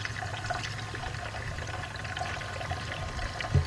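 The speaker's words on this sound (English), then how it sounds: "we're gonna continue to pour antifreeze in here until antifreeze pours out of there" Antifreeze coolant poured into the cooling system of a 1996 Dodge Intrepid makes a steady, close liquid pour with a continuous watery trickle, and there is no talk over it.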